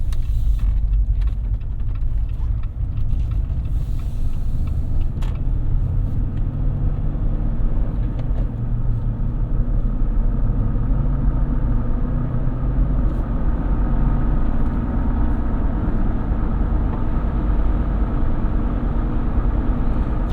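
A 2022 Jeep Wrangler Unlimited Willys drives along, its engine a loud, continuous low rumble heard from inside the cabin, rising and settling smoothly through gear changes.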